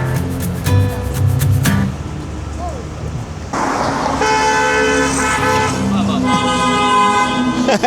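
Car horns honk on an evening street in Tokyo, several short and longer toots over passing traffic and street noise, fairly close and loud, with people talking nearby.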